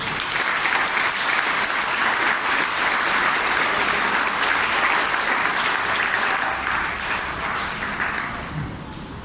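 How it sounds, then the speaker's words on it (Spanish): A church congregation applauding during a Spanish-language evangelical sermon, with dense, sustained clapping that fills the room, steady and loud throughout and easing slightly toward the end, with no clear talk over it. "¿Cuánto le dan un aplauso al Señor?"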